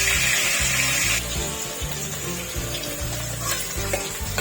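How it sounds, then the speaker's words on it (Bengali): Pieces of rui fish fry in hot oil in a pan, a dense steady sizzle with crackling pops and a faint clink of a utensil, heard up close with no talking. "মাছটা ভালো করে লাল লাল করে ভাজতে হবে।"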